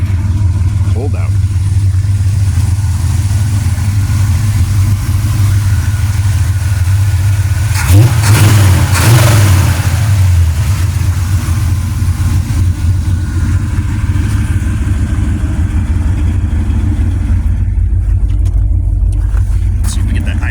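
A 1972 Chevrolet Caprice sport sedan with a 400 small-block V8 idles steadily and close by, a low rumbling drone throughout, with a brief rev or blip around the middle, on a cold day.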